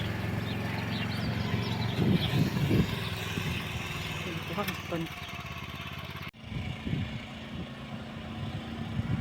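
A Motor Sich walk-behind tractor engine chugs steadily at close range during spring field work, a continuous putter running beneath a voice, with a brief dip partway through.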